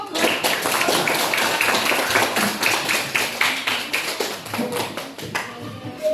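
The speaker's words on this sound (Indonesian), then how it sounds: "tepuk tangan dulu" A group claps hands in a classroom setting, giving a close, uneven burst of rapid claps that tapers toward the end.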